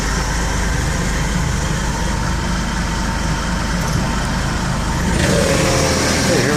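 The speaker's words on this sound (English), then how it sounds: "we'll just videotape a little bit here of the engine. It seems to be running better." A Chevy van engine with a new fan belt runs steadily close by, a constant low rumbling drone that rises slightly louder near the end, with no talking.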